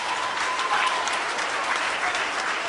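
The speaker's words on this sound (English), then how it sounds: "Give yourself a wonderful round of applause." A theater audience at a Jamaican stage comedy breaks into sustained, lively applause, a thick wash of many hands clapping at close range that holds steady from start to finish.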